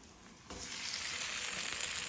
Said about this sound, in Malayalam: ഇതുപോലെ എല്ലാതും ഒന്ന് മുക്കിയെടുത്ത് നമുക്ക് ഒന്ന് വറുത്ത് പോരാം